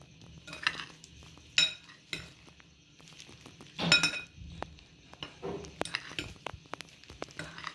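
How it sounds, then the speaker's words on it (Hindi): A spoon mixing dry nankhatai biscuit ingredients with cardamom powder in a bowl, scattered scraping strokes and sharp metallic clinks at irregular intervals, fairly quiet and close with no talk. "चम्मच की मदद से हम तमाम चीज़ों को अच्छे से मिक्स कर लेंगे।"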